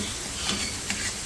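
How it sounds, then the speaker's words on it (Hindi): Boiled guar beans sizzle steadily in a hot pan over full heat, a dense hiss with a couple of faint stirring scrapes, close and continuous. "ये तेज़ आंच पे भून रहा है।"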